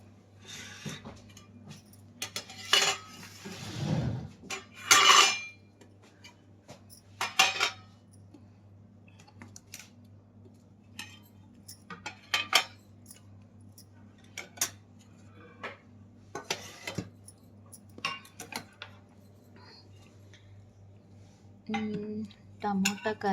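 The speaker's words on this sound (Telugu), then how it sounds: "ఇంకా ఈ క్యారియర్ ఓపెన్ చేయాలి, ఇందులో ఏమున్నాయో కూడా చూద్దాం" A stacked tiffin carrier of home food is opened, its metal containers clinking and clattering in scattered bursts near the mic over a steady low hum, with a brief voice near the start.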